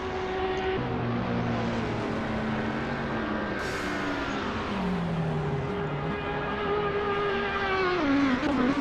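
A race car in a racing video game drives onto the Monza main straight from the Parabolica toward the start-finish line, its engine a loud, continuous whine that rises and shifts pitch through gear changes, with other cars droning alongside.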